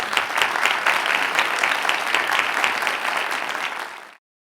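An audience at an arts center Q&A session applauds a guest speaker with steady, full clapping for about four seconds, then cuts off abruptly into silence.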